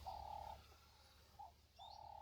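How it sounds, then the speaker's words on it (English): A dove coos in the African bush of Kruger Park, low hollow hooting notes given close by in a short phrase with a brief gap, soft against quiet surroundings. "Even though it's a dove, it is the sound of the bush here."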